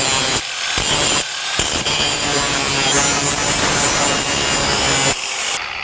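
A grinder grinding off sharp edges under a car during a TKO600 transmission install on a Fairmont, loud continuous rasping with brief gaps, close to the microphone.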